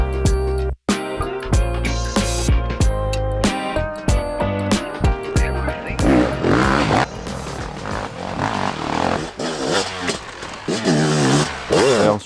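A Fantic XEF 310 off-road motorcycle engine revs while riding, sharp rising and falling rasps and throttle blips close to the microphone, briefly cutting out early on, with no talking.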